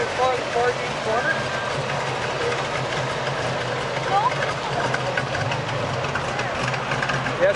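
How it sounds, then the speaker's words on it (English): A cammed car engine fitted with new mufflers idles with a loud, steady rumble close by, while people talk over it throughout. "it's cammed up pretty good, but I had to put new mufflers on it"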